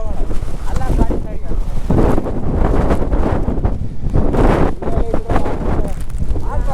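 Strong monsoon wind in rainy Chikmagalur roars loudly and without a break across an open microphone, gusting and buffeting throughout, with a voice faintly present beneath it.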